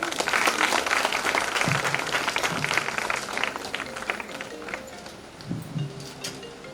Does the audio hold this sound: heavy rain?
no